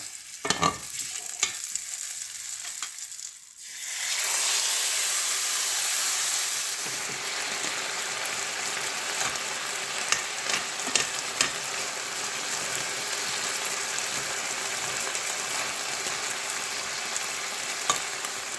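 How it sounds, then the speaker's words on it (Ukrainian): Continuous hissing sizzle of chicken fillet frying in a hot pan, loud and steady, with occasional clicks and scrapes of stirring. "на цій ж пательні я також підсмажу куряче філе."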